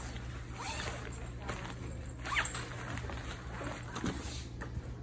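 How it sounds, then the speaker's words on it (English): A zipper is drawn along an eBags convertible travel bag in short scraping pulls, close up and fairly quiet against a low background hum. "Zip it back up for you."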